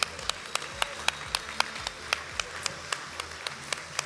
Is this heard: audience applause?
yes